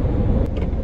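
A car engine rumbles steadily up close, a loud, low, continuous drone over a short stretch with no talking.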